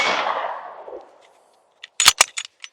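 A Glock 19X pistol fires outdoors, one loud report whose echo rolls off and fades over about a second, followed after a pause by a quick run of sharp metallic clicks and knocks.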